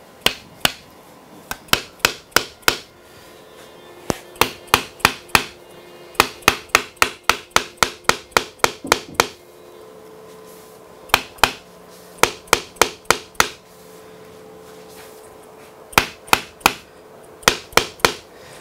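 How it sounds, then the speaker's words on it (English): A Crimson dead blow hammer taps repeatedly during an electric guitar build, sharp close knocks in quick bursts of several strikes separated by short pauses, with no talking. "this is a Crimson Dead blow hammer"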